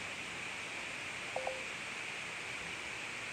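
Telephone keypad tones for an outgoing call sound as two short, faint beeps in quick succession over a steady hiss of line noise, with no talking.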